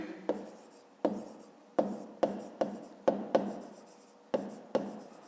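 A pen or pencil scratches out short strokes on paper while a maths exercise is worked, about ten quick, crisp marks in an uneven rhythm, close by and alone.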